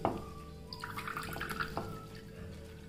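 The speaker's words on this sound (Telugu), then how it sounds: "ఇప్పుడు ఈ నిమ్మరసంలో కొంచెం వాటర్ వేసుకోవాలి।" Water is poured into freshly squeezed lemon juice while making sponge rasgulla, giving a close, brief trickle with a few drips.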